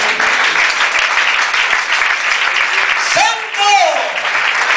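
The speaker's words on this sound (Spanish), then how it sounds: "Denle un aplauso al Señor." Church congregation claps in sustained, dense applause throughout, with a voice rising in a sung or shouted tone near the end over the clapping.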